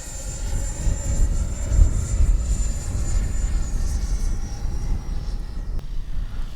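A HobbyKing Viper 64 RC jet passes slowly, its high turbine whine steady and then dropping in pitch as it moves away, over constant wind rumble.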